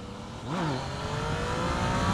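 A Yamaha MT-09 motorcycle engine revs hard as it accelerates into a wheelie, its pitch climbing and shifting loudly and close over a couple of seconds.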